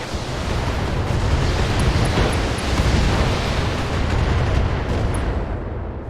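A dense, steady roar of weapons fire and explosions from the mech combat game BattleTech Flashpoint, loud and continuous with rumbling booms throughout and no talking.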